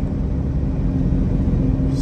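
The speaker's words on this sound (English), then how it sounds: "She really runs down the road nice. Comes, shifts right through the gears, comes up to power." A forestry bucket truck's engine drones steadily while it cruises down the road, a smooth, even low rumble throughout.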